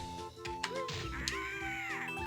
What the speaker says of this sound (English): That's a rather upset bird.